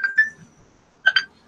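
Electronic telephone tones: a pair of short beeps, a brief pause, then another quick pair, clean and close with nothing else around them.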